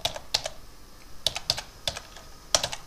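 Keys clatter on a computer keyboard while a LaTeX document is being edited. It is sparse, close typing with scattered single clicks and small bursts of keystrokes, and no talk.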